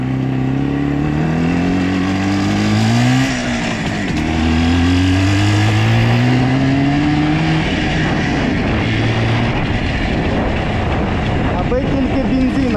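An IZh Jupiter 4 motorcycle engine while riding on a road, loud and close, revving up and down through gear changes in a steady droning buzz.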